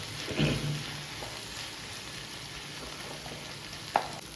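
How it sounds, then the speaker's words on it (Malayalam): Tomatoes with ginger garlic paste fry in a pan, giving a steady low sizzle at moderate distance. A brief stir or clatter lands near the start and a single sharp tap follows near the end, with no talking. "തക്കാളി നല്ലോണം വേവിച്ചെടുക്കാം."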